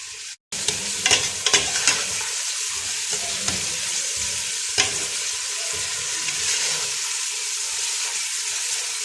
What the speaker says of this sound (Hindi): अब थोड़ा सा प्याज को हम सौते करेंगे। मीडियम फ्लेम पे रख के हम इसको पकाएंगे।